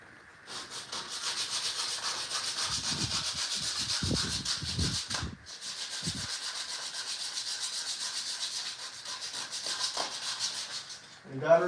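Steady, close rubbing of sandpaper on the carved wooden roof of a gnome house, continuing for about ten seconds with a brief break, while low voices murmur faintly underneath partway through.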